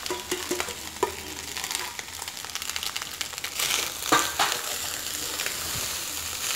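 Egg rice being stirred in a hot pan, a steady sizzle and frying hiss with scraping stirs and a few clinks, close and continuous with no talk.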